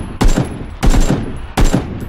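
Three short, loud bursts of rapid SMG fire in the video game PUBG, each lasting about half a second, evenly spaced and close.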